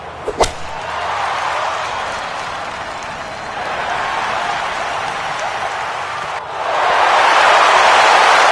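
Boisterous golf gallery at the 16th hole of TPC Scottsdale in a PGA Tour video game, with a sharp crack at the start, then a steady broad roar of cheering and applause that swells louder near the end.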